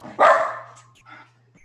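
A single loud dog bark sounds up close, followed by a softer trailing yip against a faint steady hum.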